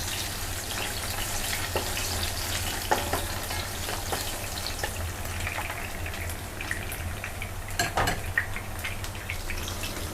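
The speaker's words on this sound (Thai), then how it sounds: "ต่อไปคุณตั๊กก็จะทอดเห็ดนะคะ" Shiitake mushrooms fry in hot oil with a continuous close sizzle and crackle, broken now and then by clinks of a utensil stirring against the pan, and no one speaking.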